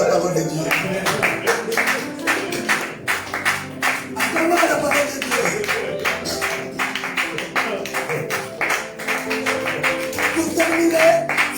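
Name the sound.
congregation applauding in church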